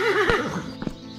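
A toy-film horse gives a loud, close whinny with a wavering pitch, followed by a couple of brief snorting or hoof-like thumps, with no talk over it.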